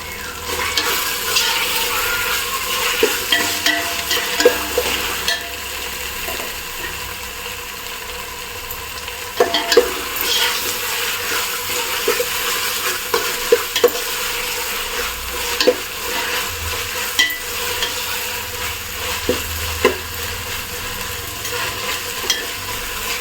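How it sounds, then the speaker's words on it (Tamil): Chopped coriander and mint leaves frying in a pan for chicken biryani, a steady sizzle with stirring scrapes and occasional clinks running throughout the clip, close and fairly loud, no talking. "இந்த கொத்தமல்லி புதினா போட்டுக்கலாம்"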